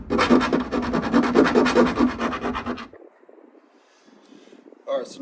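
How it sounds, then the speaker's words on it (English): A hand file rasps in quick, rhythmic back-and-forth strokes along the edges of holes drilled in a Jeep JLU body for riv nuts. The loud, close scraping stops abruptly, then faint handling noises follow. "I did go and get a file and clean up the edges of these holes"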